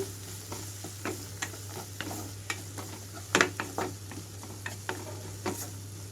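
Cooked rice tossed into vegetable fried rice with pepper powder in a hot pan: repeated scraping, stirring clacks of a spatula over a steady low sizzle, close and moderately loud, with no talking.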